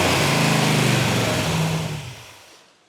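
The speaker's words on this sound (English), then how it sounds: "as quick as you hit that throttle," A thumping-cam engine, nicknamed the Mother Thumper, revs hard and loud with a choppy, lopey rumble, then winds down over the last second.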